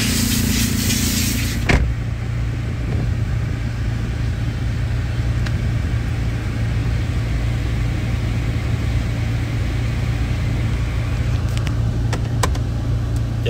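A turbocharged Toyota Yaris engine holds a steady, loud idle hum, with one sharp knock near the start and a few faint clicks toward the end.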